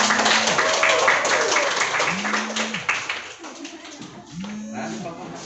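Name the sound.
classroom applause for a student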